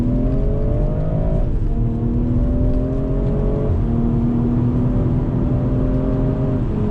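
A loud BMW M340i engine revs up repeatedly under throttle, its pitch climbing then dropping sharply at each quick manual gear shift, about four shifts in a row.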